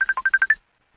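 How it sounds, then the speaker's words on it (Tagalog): A cellphone ringtone plays a quick run of seven short electronic beeps in under a second, clear and close, then cuts to silence. "Oh, ang akong cellphone."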